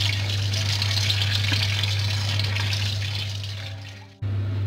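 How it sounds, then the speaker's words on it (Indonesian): Running water from a tap washes fresh asparagus, a steady, close gushing stream over a constant low hum that tapers slightly before cutting off abruptly near the end. "Dicuci dulu ya."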